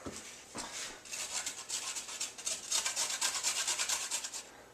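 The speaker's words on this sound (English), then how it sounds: "I like to grate them fairly fine, so we're just going to" Carrots grated finely on a hand grater, close rhythmic rasping strokes that begin hesitantly and settle into a steady quick back-and-forth, no voices.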